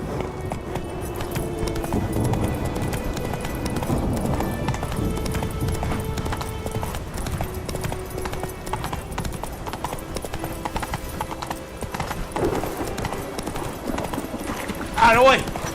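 Roach, a horse in the video game The Witcher 3, gallops with a steady, rapid clip-clop of hooves that runs throughout. Someone talks and shouts over it, and a brief whinny comes near the end.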